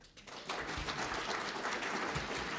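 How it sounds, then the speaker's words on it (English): Audience applause for Dr. Morris Nitsun as he takes the stage at a talk, a dense, steady wash of clapping that swells in after a brief quiet start and holds loud to the end. "let's put our hands together in a round warm of applause for our Dr."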